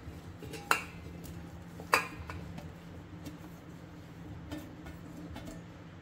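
Amla pieces tip into a metal pot, with two sharp clinking hits followed by quieter scattered taps and clatter against a low, steady background.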